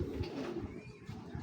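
A large club-raced racing pigeon gives a faint, brief low coo, quiet and close.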